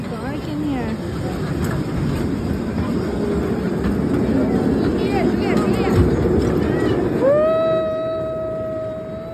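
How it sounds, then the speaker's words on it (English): A small amusement-park train at Adventure City rumbles steadily with squeaks and light rattles, then a sustained whistle-like tone sounds at the end as it moves off. Voices of children and adults talk over it. "Okay, this train is about to move, but it's taking a little long time."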